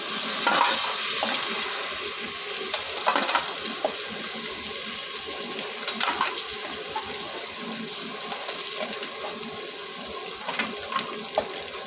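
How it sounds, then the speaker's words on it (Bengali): Steady sizzling of crabs frying in hot oil, with occasional stirring scrapes and bubbling bursts, close and fairly quiet, no talking. "কাঁকড়াগুলো দেখুন আমার ভাজা হয়ে গেছে পুরোপুরি, এবারে আমি তুলে নেব।"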